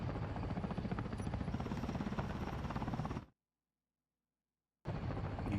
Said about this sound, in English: I'm taking the helicopter